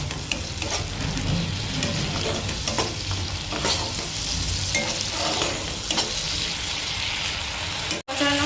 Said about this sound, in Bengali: ভালো করে নেড়ে চেড়ে এবার এটাকে মিশিয়ে নেব